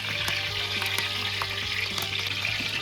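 Spices sputtering in hot oil for the phodni of a large-batch, hotel-style palak paneer, a steady close sizzle with a few sharp pops and crackles running continuously throughout.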